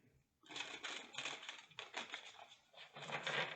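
Oracle cards printed on heavy 350 GSM art stock are shuffled close by, a quick run of crisp riffling flicks and taps in several short bursts.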